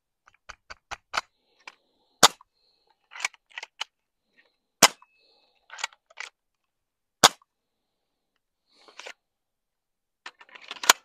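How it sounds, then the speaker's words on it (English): Crosman PSM45 air pistol firing a handful of sharp, well-spaced shots with brief mechanical clicks between them, close and loud in an otherwise quiet setting. "I probably got three more shots left."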